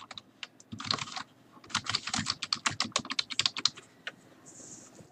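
Close, crisp keystrokes on a computer keyboard as text is entered into a customer portal form, coming in quick uneven bursts with brief pauses between them, no voices.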